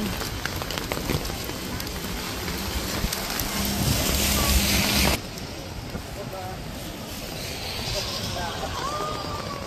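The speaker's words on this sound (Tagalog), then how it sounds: "Ay, malakas ang hangin." Heavy typhoon wind buffets the microphone with a constant rushing roar, mixed with rain-like hiss, loud and close, easing somewhat halfway through, in Hong Kong.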